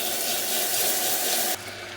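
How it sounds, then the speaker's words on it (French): Caramel in a pan is deglazed with white vinegar while a whisk stirs it. A loud, broad hiss and sizzle runs steadily and then drops abruptly to a quieter bubbling. "On va le déglacer avec du vinaigre blanc et un fouet."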